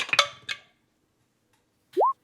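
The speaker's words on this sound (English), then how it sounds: "I have a dice, and I put it in my dice tower." A single die clatters down a dice tower, a quick burst of hard plastic clicks and bounces that dies away, followed after a short silence by a brief rising electronic chime.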